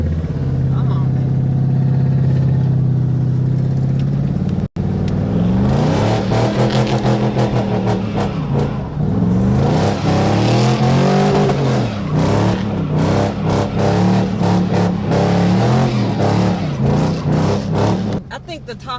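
A Chevrolet Tahoe built as a burnout truck revs its engine loudly and close, a sustained roaring drone that rises and surges in pitch, with people talking over it.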